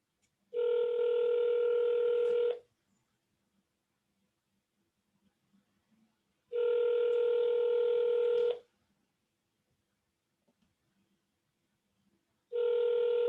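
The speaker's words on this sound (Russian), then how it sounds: "Вот набираем любой номер в Туркменистане." A telephone ringback tone while calling a number in Turkmenistan, heard as three long, even two-second rings separated by silent gaps of about four seconds, clear and close with no talk.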